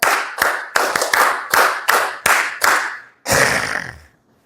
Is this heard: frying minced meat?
no